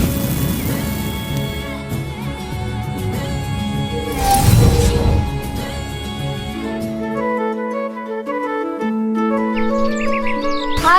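Birds chirp and tweet in a fantasy television drama, their calls woven through sustained musical tones, with a louder rushing swell midway before the sound settles into clearer tonal notes.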